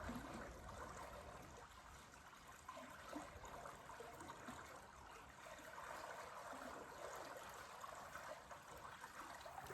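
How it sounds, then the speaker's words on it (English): Water splashing steadily over the tiller of a moving narrowboat on a canal, a continuous close wash and trickle lasting the whole stretch with no talk. "Only sound is the splashing of the water over my tiller."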